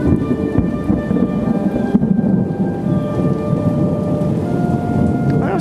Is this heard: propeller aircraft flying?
no